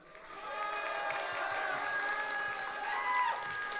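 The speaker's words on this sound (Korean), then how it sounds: "여러분들 박수 많이 쳐주실 것 같고요" Student audience at a youth humanities concert held in a high school, applauding and cheering as a guest professor is welcomed; steady crowd clapping with some whoops fills the whole stretch, loud and continuous.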